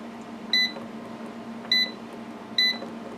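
Control panel of an Elite 5.5 quart digital air fryer beeping three times at even intervals, each a short bright electronic double tone over a steady low hum.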